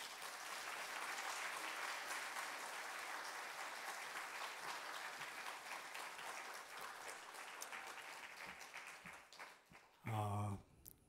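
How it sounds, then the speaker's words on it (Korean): A church congregation applauds to welcome a guest pastor to the pulpit, a steady mid-level clapping that holds for about nine seconds and then fades, followed by a brief loud burst of amplified voice. "오늘은 뜨겁게 박수로 맞이하겠습니다"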